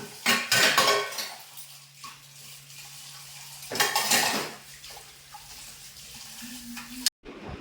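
Dishes being washed in a home kitchen sink, with close clattering of pots, plates and cutlery in bursts over running water, no talk.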